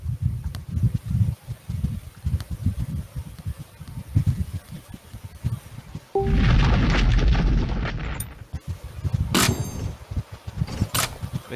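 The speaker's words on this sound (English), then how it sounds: "now I can hit it with 3D bomb." A 3D bomb goes off in the artillery game Shellshock Live, a loud booming explosion roughly midway that rumbles for a couple of seconds, with people talking before and after.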